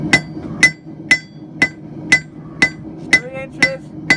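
Regular hammer blows ring out on hot steel being forged into a paper towel holder, about nine evenly spaced strikes roughly half a second apart, close and loud with a bright metallic ring.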